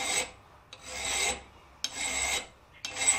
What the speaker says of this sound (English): On to filing.